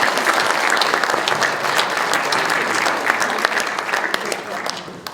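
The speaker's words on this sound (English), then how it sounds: "Let's have a round of applause first for Jason Fenton." An audience in a synagogue lecture hall applauds a guest speaker, with dense, steady clapping from many hands filling the room for several seconds before gradually thinning.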